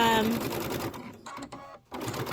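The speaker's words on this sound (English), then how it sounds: "Now I'll get nice, even top stitching." A sewing machine top-stitches a storybook pocket pillow, the motor running close and steady before slowing and pausing briefly, with a person talking over the opening of the run.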